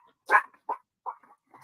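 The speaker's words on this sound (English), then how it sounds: "Ignore the barking dogs." A dog barks several times in short, loud, spaced bursts during a conversation at a residential spot in Canton, with a few softer yips between the barks and no talk over them.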